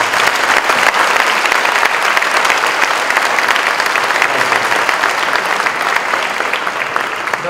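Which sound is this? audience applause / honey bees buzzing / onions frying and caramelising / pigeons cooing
audience applause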